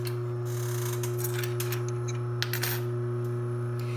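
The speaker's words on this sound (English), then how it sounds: "That clutch motor is going to make a little bit of noise." Consew 226 industrial sewing machine with its clutch motor switched on, a steady loud hum with strong low harmonics running throughout, overlaid by faint ticks and light mechanical clicks.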